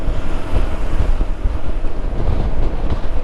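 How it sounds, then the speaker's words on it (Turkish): Steady wind buffets the microphone loudly and continuously while riding a 2018 Honda PCX scooter on a gusty day in Istanbul. "Bu da biraz bugün hava rüzgarlı."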